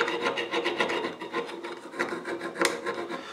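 A metal file rasps back and forth over a lead figure being restored and shaped with filler, a steady run of quick scraping strokes, close and distinct, with no voices.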